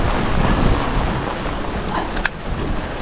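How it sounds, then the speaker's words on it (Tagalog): Strong mountain wind buffets the microphone on a street, a loud continuous rumbling roar with gusty swells and no voices. "ay lakas ng hangin ah"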